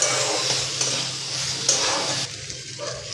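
Spice paste for a pea and potato curry being stirred and sautéed in a pan, a steady close sizzle with scraping stir strokes throughout, quietening slightly near the end.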